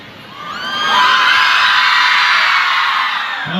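A large crowd of students at a students' union felicitation event in South Kamrup, Assam, shouts together loudly in one sustained, strong roar that swells after a quieter opening and holds to the end.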